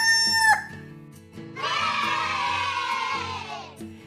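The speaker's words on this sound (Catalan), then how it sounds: "El gall, és clar!" A rooster crows once at moderate loudness, a long harmonic call rising and holding before trailing off, preceded by a brief bright tonal squawk, on a farm-themed children's track with a steady musical backing underneath.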